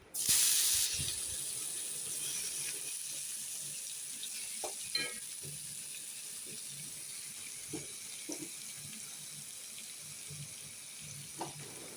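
Chicken kosha frying with spices in hot oil, a loud initial hiss settling into a continuous low sizzle with occasional stirring clinks and scrapes, close by in a home kitchen.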